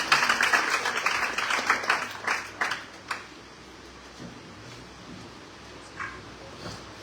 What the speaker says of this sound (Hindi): जोरदार तालियों के साथ स्वागत किया करें इन सभी प्रतिभागियों का